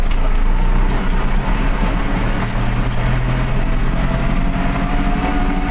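An MTZ 1025 tractor fitted with a MAN D0834 engine in place of its D-245.5 pulls up a small rise, its diesel running as a loud, steady, low rumble heard from inside the cab.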